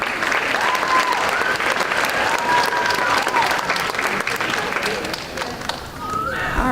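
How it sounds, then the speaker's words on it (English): Sustained applause from an audience at a school district student awards ceremony, loud and steady throughout, with some cheering and voices mixed into the clapping. "let's give all our kids one more time a great round of applause"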